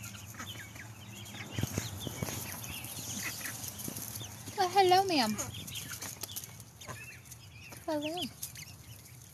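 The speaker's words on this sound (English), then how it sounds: "Yep, that's one of our roosters." Backyard chickens cluck and a rooster sounds off close by with a couple of loud rising-and-falling calls, over soft yard noise while a person talks briefly to the birds.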